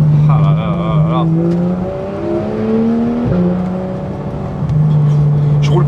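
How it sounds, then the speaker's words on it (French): A Porsche 991 GT3 RS drives at low revs with a steady engine drone, gear changes, and loud gearbox and running-gear noise. Someone talks over the car throughout. "Vous entendez énormément la boîte de vitesse, vous entendez énormément les trains roulants, les suspensions"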